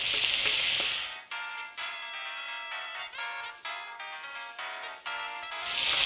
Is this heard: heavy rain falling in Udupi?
no